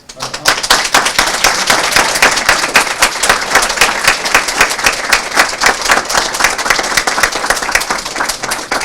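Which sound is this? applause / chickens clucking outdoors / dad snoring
applause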